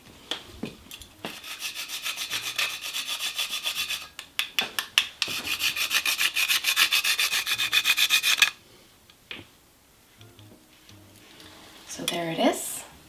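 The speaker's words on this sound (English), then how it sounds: "I am going to now grate just a little bit of fresh nutmeg on the top" Fresh nutmeg grated by hand over frosting on a keto pumpkin spice mug cake, close rapid rasping strokes in bursts of steady scraping, then quieter handling sounds as it stops.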